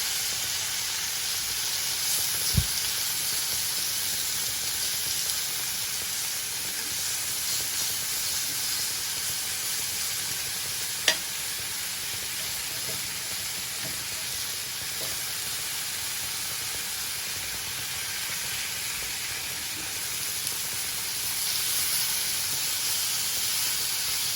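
Jerk pork sizzles on a grill over medium heat, giving a steady continuous hiss with occasional faint pops and crackles throughout.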